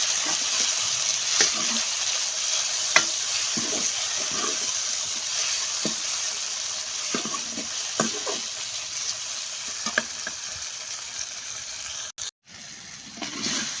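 Masala with tomatoes sizzles steadily in a pan while Punjabi-style cholai saag is cooked, with scattered soft taps and scrapes of stirring and no talk.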